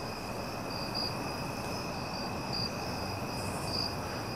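A steady, high cicada drone pulses faintly in a continuous nighttime chorus over soft background hiss at Wallops Island, with no voices.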